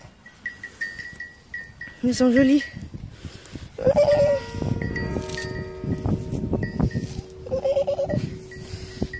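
Goats on a farm bleat in several wavering, drawn-out calls, loud and close, while someone talks softly in French between and over them and a faint bell clinks in the background.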